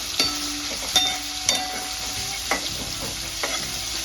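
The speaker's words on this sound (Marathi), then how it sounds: "तेल गरम झाल्यानंतर आपण त्याच्यात 7-8 लसणाच्या पाकळ्या टाकायच्या आणि 2-3 मिरच्या टाकायच्या।" Garlic cloves and green chillies drop into hot oil in a pan for okra bhaji, giving a steady sizzle with a few sharp stirring clinks and scrapes, close and fairly loud, no talking.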